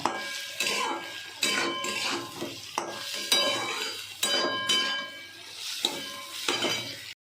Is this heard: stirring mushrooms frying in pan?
yes